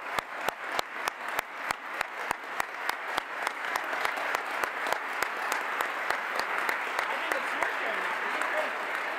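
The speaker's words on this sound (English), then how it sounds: "Ladies and gentlemen, a big round of applause for our 2 astronauts that are going to mark Canada's history in space." A crowd at a Canadian Space Agency announcement applauds two Canadian astronauts. The clapping swells and stays steady while a regular train of sharp, evenly spaced clicks runs through it from start to finish.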